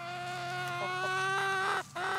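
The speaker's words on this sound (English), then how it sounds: "Okay, chickens." Chickens cluck nearby in a continuous, overlapping chorus, loud and close, with a short dip near the end before the clucking resumes, on a farm in first frost.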